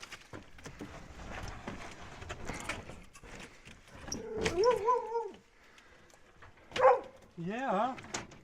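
A dog barks a few times, a sharp burst near the middle and another toward the end, with chatter, rustling and other noises around it on an off-grid homestead.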